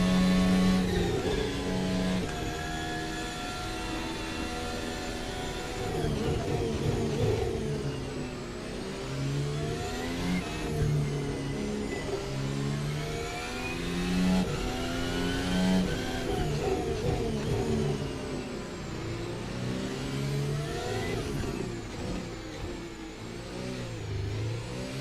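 A Formula Alpha race car in VRC Formula Alpha at Interlagos, its high-pitched engine revving and accelerating through repeated rising gear sweeps and shifts, loud and continuous throughout.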